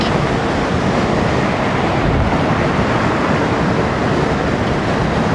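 Steady, loud wind buffets the microphone without a break, a dense broadband roar like surf, with no voices over it.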